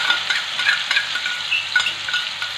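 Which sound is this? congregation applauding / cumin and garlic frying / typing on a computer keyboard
cumin and garlic frying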